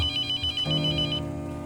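A mobile phone in a horror video game rings with a repeating electronic ringtone melody, loud and close, shifting to a lower tone partway through.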